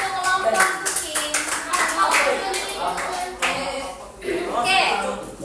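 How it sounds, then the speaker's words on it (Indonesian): Children in a classroom clap together for a student group during a lesson, a dense run of hand claps over several seconds with voices mixed in. "Kita tepuk tangan lagi untuk kelompok kucing."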